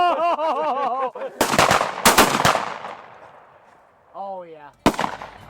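Shotgun blasts at a veteran pheasant tower hunt in Michigan, several loud sharp reports in quick succession with a final shot, mixed with a whistle-like call and brief voices between.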